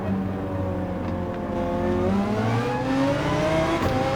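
A GT3 race car engine in Gran Turismo 7 revs steadily upward for several seconds, its rising whine building power toward the top of the rev range with a brief shift-like dip midway, loud and continuous with no talk.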